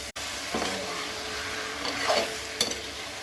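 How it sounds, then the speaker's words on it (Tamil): Brinjal sizzling with onion and tomato in a hot pan, a steady close frying hiss broken by a few scraping stirs of a spoon, no voices. "கத்திரிக்காய் சேர்த்து வதக்கிட்டோம்"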